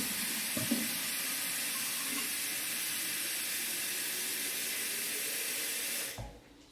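Tap water runs steadily as a bottle fills, a continuous broadband hiss that holds for about six seconds before cutting off abruptly, with a faint clunk near the start.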